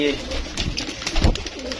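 Pigeons coo softly up close in low, throaty bursts, with a person's voice faintly mixed in.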